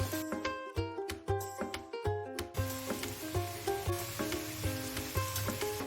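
Vegetables, scrambled egg and fried chicken are stir-fried on high flame for chicken fried rice, with a constant sizzle and quick, close metallic scraping and clattering of a spatula against the pan.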